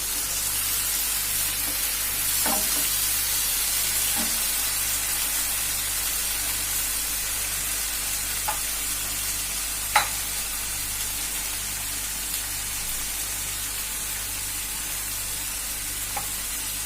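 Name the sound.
stirring tomatoes into a frying pan mixture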